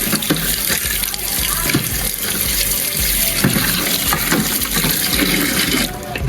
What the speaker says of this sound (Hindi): इसको मैंने पानी से धो दिया।